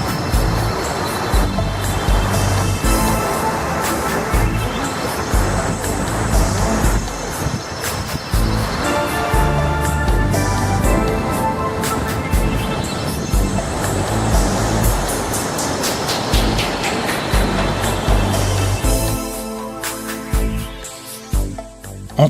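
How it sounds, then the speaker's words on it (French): Cascading water at the September 11 memorial pools in New York roars in a constant, loud, broadband rush that masks the surrounding city traffic, running steadily throughout. "Seul le bruit des cascades coupe le bruit de la ville."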